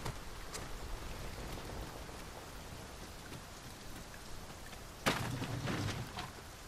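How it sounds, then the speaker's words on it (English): Continuous rainfall in the video game Dragon's Dogma 2 hisses evenly, with a sudden louder splash or gust of heavier rain breaking in near the end. "Tis raining still."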